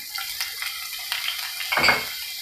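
Chopped garlic and ginger stirred in hot oil in a pan for restaurant-style chilli chicken: faint sizzling with light scrapes and clinks of a utensil against the pan, ending in a slightly louder stir.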